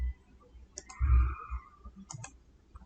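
Two quick double mouse clicks, crisp and close, with a short gap between the pairs, over faint low background hum.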